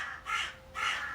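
A crow gives two loud, close caws about half a second apart, with nothing else heard around them.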